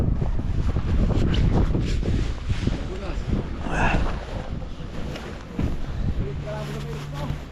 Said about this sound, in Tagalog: kasi ang hangin galing sa likod eh